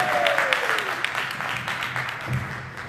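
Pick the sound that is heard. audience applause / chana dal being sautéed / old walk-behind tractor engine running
audience applause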